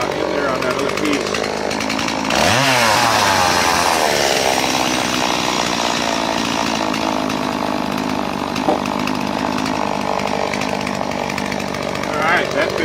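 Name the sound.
chainsaw cutting wooden pole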